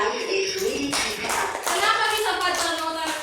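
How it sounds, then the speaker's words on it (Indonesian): A classroom of children claps for a classmate, quick uneven hand claps close by, with a teacher's voice and murmurs mixed in among the patter. "tepuk tangan dulu untuk Fadra"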